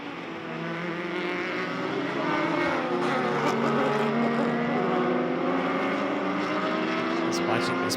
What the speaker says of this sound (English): Just watching this pack racing at the highest level with these fast cars is just great